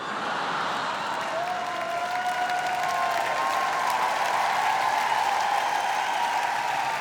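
Steady audience applause at a French stand-up comedy show, sustained and fairly loud throughout, with faint whistle-like tones rising above the clapping and no talk over it.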